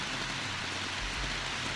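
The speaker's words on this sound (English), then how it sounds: "It's raining" Rain falls steadily at around two in the morning, a constant soft hiss of drops with a low rumble beneath, uninterrupted and unvoiced.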